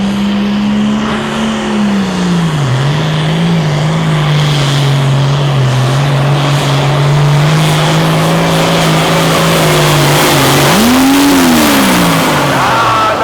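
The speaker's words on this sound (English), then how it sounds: "tractor's still running strong" A pulling tractor's heavy engine roars loudly and steadily for several seconds at a tractor pull, its pitch dipping slightly then rising again with a brief surge near the end.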